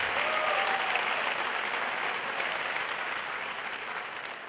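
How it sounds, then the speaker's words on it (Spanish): A large audience at a youth revival conference claps together in sustained, dense applause that holds loud and steady, easing slightly toward the end. "dale un aplauso al Rey de Reyes"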